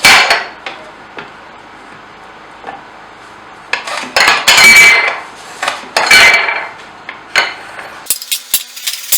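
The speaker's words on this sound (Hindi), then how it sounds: "प्याज जो है हम बारीक क्यूब्स शेप में काट देंगे" A knife chops an onion into fine cubes on a board, with irregular sharp knocks and quick clusters of loud blade strikes, interrupted by brief quieter pauses.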